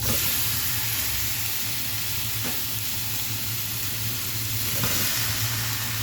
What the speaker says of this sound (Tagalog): pag mainit na ang ating kawali, ayan, ilag. Oh, hindi ako naglalagay ng oil. Nilalagay ko lang yung meat.